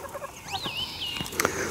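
Domestic fowl on a Hungarian smallholding where ducks are kept, calling in a few short, fairly close squawks and gobble-like cries with a rising whistly note, heard alone without talk.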